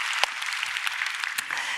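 Applause rises from a Korean church congregation giving thanks to God, a busy patter of many hands with a few sharper, louder claps standing out nearby.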